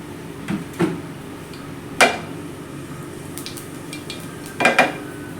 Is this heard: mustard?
yes